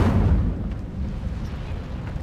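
An Incendio fire spell cast in the game Hogwarts Legacy, heard as a low, rumbling whoosh and burst of flame that swells at the start and then fades into a steady roar.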